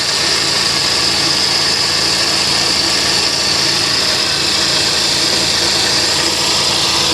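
A car engine runs steadily at a Copart salvage yard while an engine accessory makes a loud, constant whirring and grinding roar close by, with no talking.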